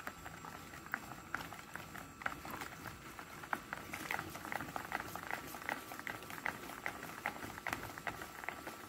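A spoon stirs cake batter after half a spoonful of baking powder has gone in, giving steady, rhythmic wet strokes and soft clicks close by for the whole stretch, with no one talking.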